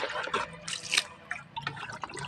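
Water is poured from above onto garden plants outdoors, a soft, uneven splashing and trickling that runs steadily without speech.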